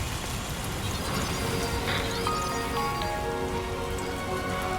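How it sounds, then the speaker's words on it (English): Steady rain patters on surfaces in the video game Death Stranding 2, a soft continuous hiss of drops that runs alone throughout. "Rainy."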